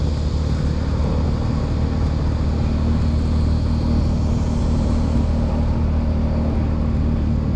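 A vehicle climbs a steep hill road toward a campsite in Doi Phu Kha National Park, its engine a steady, close, broadband rumble that holds unbroken throughout.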